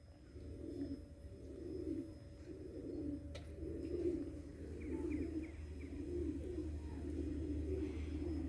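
Domestic pigeons cooing in a loft, a steady series of low, rolling coos repeating about once a second over a soft background hum, with no talking.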